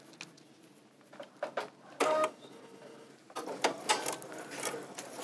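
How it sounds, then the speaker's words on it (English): A sewing machine stitches a quarter-inch seam in a freezer paper piecing project: a soft, uneven mechanical whir and clatter with short bursts and louder stretches, faint and steady under light handling noise. "I'm just going to sew all the way around with that 1/4 inch seam"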